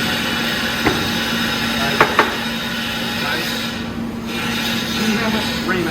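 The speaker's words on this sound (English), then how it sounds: "Ream it out." Metal hole being reamed out on a methanol fuel system, a continuous rasping, rubbing scrape with a few light knocks, close and fairly loud over a steady hum.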